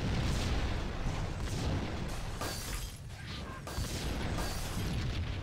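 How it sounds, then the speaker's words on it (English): Dense, continuous rumbling blasts and crackling booms from explosions in Max Payne fill the scene, loud and chaotic without pause. "Okay, that's a ton of explosions."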